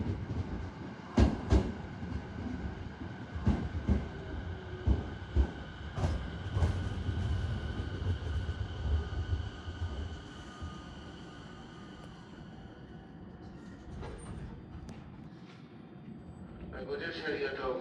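A Sobu Line 209 series 2100 train pulls into Asahi station platform at night, with a string of rhythmic wheel clacks over rail joints and a rumbling approach. A station announcement speaks over the arrival.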